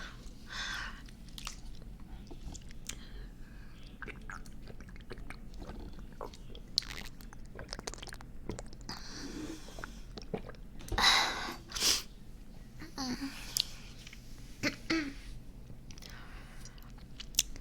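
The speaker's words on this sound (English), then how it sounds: "The crunch combined with the moist sound is really great." A crunchy snack is bitten and chewed close to the microphone with moist, crisp crunches, irregular and fairly quiet, along with occasional sniffs and breaths.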